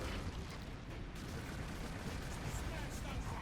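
Bolt rifle fire from Warhammer 40,000 Space Marine keeps up as a steady dense barrage, heard fairly quietly with a constant rumbling edge beneath.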